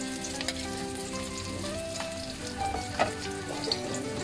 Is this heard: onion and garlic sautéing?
yes